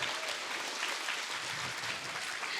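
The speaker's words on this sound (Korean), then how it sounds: "여러분 큰 박수로 맞이해 주세요." A school audience of middle-school students claps to welcome jewelry designer Kim Jeong-ju onto a television program stage, a dense, even wash of applause that stays fairly soft throughout.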